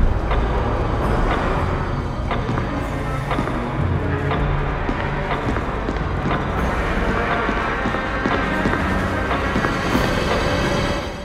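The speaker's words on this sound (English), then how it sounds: "As you can hear, the music sounds very high-pitched," Resident Evil HD dining room theme from the video game, thin and high-pitched with little bass, runs continuously at moderate level with faint repeating accents and no talking.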